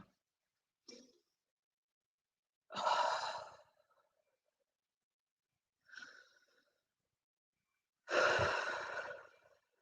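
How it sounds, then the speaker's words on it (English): Slow deep breaths during a seated stretch break come in a loose rhythm of quieter inhales and louder, longer exhales, close and clear against silence. "take a couple of deep breaths"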